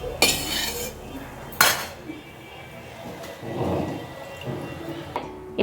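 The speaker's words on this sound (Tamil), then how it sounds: "இப்போ ஊற வச்சிருந்த அரிசியும் பருப்பையும் சேர்த்துடுறேன்" Soaked rice and lentils are tipped into a cooking pot for temple-style sakkarai pongal, with two sharp, rushing pours followed by a softer, longer patter of grains settling, then a faint final clatter.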